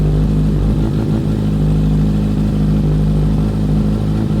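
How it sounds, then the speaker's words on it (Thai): A 2018 Kawasaki Z900 ABS SE inline-four motorcycle engine with a titanium exhaust idles steadily, a loud, close, even rumble with a faint mechanical clatter throughout and no talking. "เครื่องสี่สูบเรียงเสียง"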